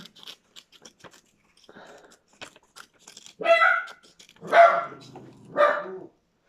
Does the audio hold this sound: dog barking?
yes